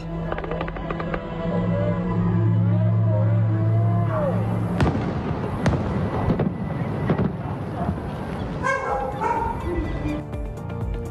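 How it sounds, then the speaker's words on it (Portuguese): Fireworks set off sharp, loud bangs and crackling pops in irregular succession, with wind noise and a dog barking nearby in the mix. "esse barulho todo dos fogos de artifício, com o estampido"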